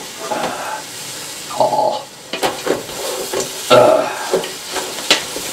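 Chopped onions and garlic sizzle in olive oil in a pan while being stirred, with a steady frying hiss broken by several scraping, clattering stirs.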